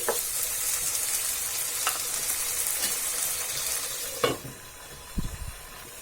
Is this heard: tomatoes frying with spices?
yes